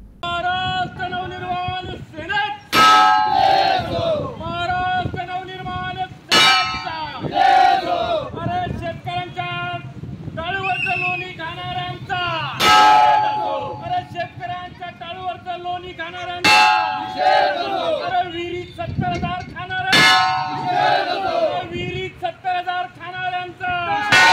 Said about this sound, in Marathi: गठन के जिलाध्यक्ष गणेश बरबड़े के नेतृत्व में चिखली पंचायत समिति के सामने घंटानाद आंदोलन किया गया।